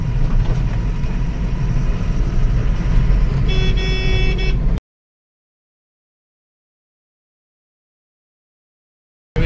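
A truck loaded with oilcake drives along a highway toward Vijapur with a steady engine and road rumble and a short horn toot, then the sound cuts off into silence.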